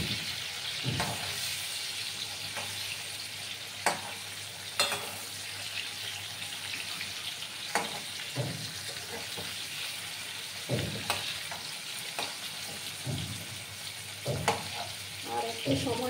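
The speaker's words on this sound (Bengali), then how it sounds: "কুমড়োগুলোকে ভাজা ভাজা করে নেব" Ash gourd pieces frying in a pan give a steady low sizzle, broken by occasional clinks and scrapes of stirring. No one speaks.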